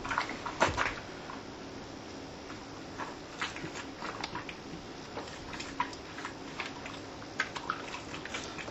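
A foam air filter from a nitro RC car is squished and washed in a container of soapy water, giving steady wet sloshing and squelching with occasional splashy bursts, close up and with no talking.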